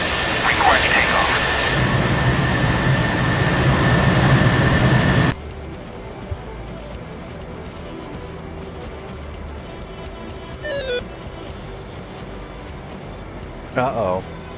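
Jet aircraft engine roars loudly as the plane takes off in a video game, a steady dense rush that cuts off abruptly, followed by quieter background hum and a few brief tonal blips.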